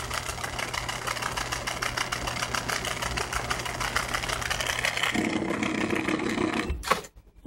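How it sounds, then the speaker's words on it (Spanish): A washing machine runs its spin cycle with a steady, fast mechanical whir and hum that grows rougher and louder partway through, then cuts off abruptly near the end. "Así es como se comporta una lavadora en el modo de centrifugado."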